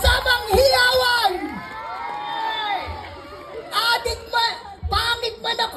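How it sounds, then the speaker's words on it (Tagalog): Crowd at a Miss Gay pageant in Pampanga erupting in cheering, whoops and shouting, loud bursts at the start and again near the end with a noisy murmur between. "magpalakpakan na may kasamang hiyawan"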